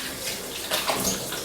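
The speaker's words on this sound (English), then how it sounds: "Always wash your hands." Hands are washed under a running kitchen tap: a steady, fairly loud rush of water with slight splashing shifts as the hands move through the stream, with no voices.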